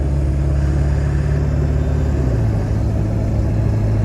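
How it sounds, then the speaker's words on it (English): A 7.3 Powerstroke diesel pickup truck engine pulling under normal acceleration at night, a loud, steady low rumble heard from inside the cab that drops slightly in pitch partway through, with no voices. "Wasn't accelerating too hard, just normal standard accelerating."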